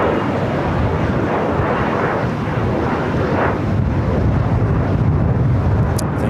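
A Turkish Airlines jet takes off from LAX's south side, heard as a broad, steady roar with wind buffeting the microphone and no voices over it.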